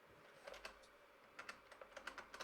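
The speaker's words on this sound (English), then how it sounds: "You want me to take over the typing?" Quiet bursts of typing on a computer keyboard, scattered clusters of light key taps at close range with short pauses between them and no talking.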